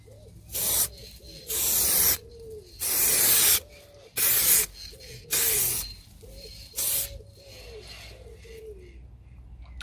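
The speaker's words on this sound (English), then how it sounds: "So just a little mist coat to start with, just to give the lacquer something to grab to." A spray gun lays a light mist coat of lacquer over fresh paint on a Vauxhall Astra H, heard as about six short, loud hissing bursts separated by quiet pauses.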